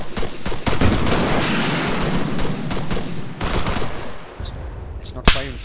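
Video-game gunfire rattles in dense, loud machine-gun bursts with rapid repeated shots, close and continuous for several seconds before tapering into a few scattered single cracks, with voices faintly present under the fire.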